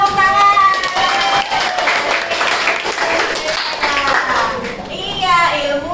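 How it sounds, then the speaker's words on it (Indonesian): A classroom of children clapping together during a Quran tajwid lesson, a brisk patter of hands that lasts several seconds, with children's voices and chatter mixed in. "ya, kasih tepuk tangan."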